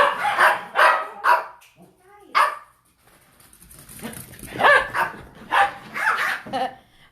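Excited dogs barking in a burst of sharp, repeated woofs and yips, close and loud, with short gaps and a quieter whimpering stretch in the middle.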